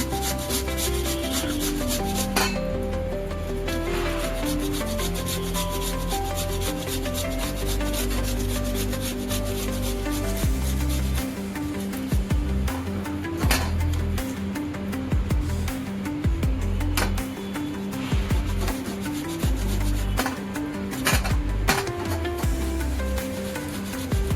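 Boiled potatoes rubbed against a grater for Diwali potato sev, a steady scraping rasp that repeats in close strokes throughout, with no talking.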